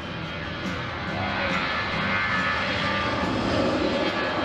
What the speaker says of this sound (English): A teraz uvidíme touch and go, zadýmenie, roztočenie kolies.